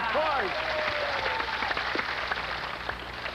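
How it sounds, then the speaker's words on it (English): Studio audience applause and cheering fills the room steadily, with whoops and voices rising above the clapping throughout. "Why is the audience cheering?"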